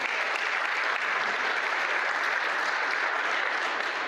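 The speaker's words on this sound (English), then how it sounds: "Let's give him a round of applause." Audience applause in a group coaching session, a steady wash of clapping that holds an even level for several seconds without speech.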